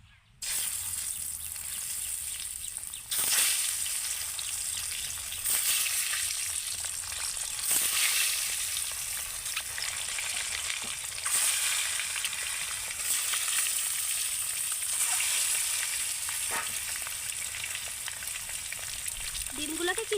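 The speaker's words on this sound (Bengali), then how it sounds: "এবার আমি ডিমগুলোকে তেলের মধ্যে দিয়ে দেবো" Boiled eggs are dropped into hot oil mixed with chili powder for an Afghani egg curry, setting off a loud, steady sizzle and hiss that runs the whole time, with a few sharper bursts and scrapes as the eggs are moved.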